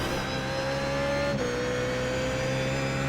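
A BMW Z4 GT3 race car engine in the iRacing sim at Sebring International Raceway drones loudly, then drops sharply in pitch at one upshift and holds a steady lower tone.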